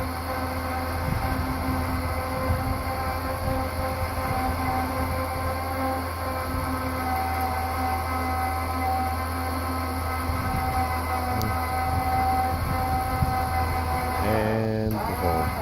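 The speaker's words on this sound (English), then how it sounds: "Not the fastest winch in the world," An electric winch runs slowly under heavy load on a roof job, giving a steady, loud mechanical drone with a constant hum that continues unbroken for about fifteen seconds before a brief clunk near the end.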